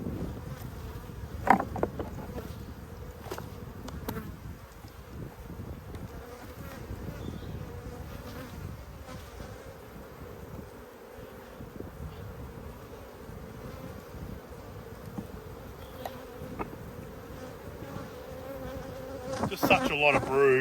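A dense, steady hum of honey bees buzzes around a four-week-old nuc hive in Australia, close and continuous for the whole stretch, with a little handling noise near the end.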